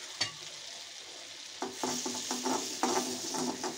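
Melted butter with Kashmiri chili and kasuri methi stirred in a pan, a quiet sizzle under soft rhythmic scraping strokes of a spoon, close and gentle.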